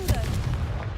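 A Confringo fire-blast spell erupts in Hogwarts Legacy, a single heavy booming burst that rumbles low for about a second, with a brief vocal tone at its start.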